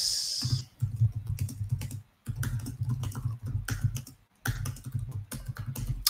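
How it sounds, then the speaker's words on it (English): Typing on a computer keyboard, with rapid close clicking keystrokes in three long runs separated by short pauses, loud and alone without talk. "Sorry if the typing is a little loud."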